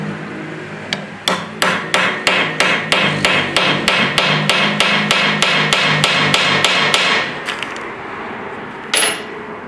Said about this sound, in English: hammering this until it looks like the moon